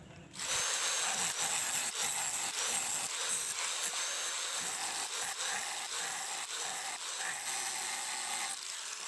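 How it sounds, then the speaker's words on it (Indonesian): A coarse grinder shapes a knife blade with a loud, continuous, rasping whine that begins abruptly after a brief quiet moment and holds steady close up with slight fluctuations throughout, without speech. "Ini pakai gerinda"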